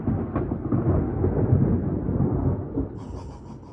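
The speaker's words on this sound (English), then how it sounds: "I've never heard thunder like this." Deep, rolling thunder rumbles loudly and continuously inside Maragua Crater near Sucre, Bolivia, swelling and fading over a few seconds, with light rain faintly behind it.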